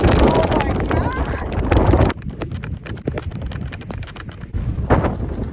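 Strong gusty wind, said to reach 60 miles an hour, buffets the microphone on a golf course, a loud rushing roar that drops briefly and then surges again, with people talking over it.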